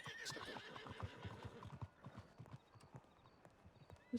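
A horse in Red Dead Redemption 2 whinnies near the start, then hooves clip-clop in a steady rhythm that thins out toward the end, fairly quiet overall.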